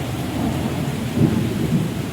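Low rolling thunder rumbles steadily through a rainstorm, swelling slightly in two brief surges over a constant wash of rain, with no voices.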